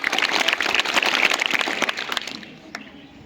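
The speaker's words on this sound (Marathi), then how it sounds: "अरे वा, परत एकदा टाळ्या" A small crowd at a school quiz event claps together for several seconds, a dense patter of hand claps that fades out toward the end.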